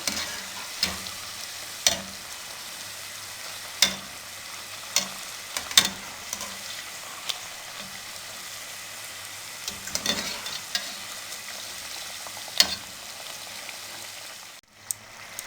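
Chicken samosas frying in oil over a medium flame, a soft, even bubbling sizzle broken by several sharp clicks and knocks of a utensil against the pan, with no speech.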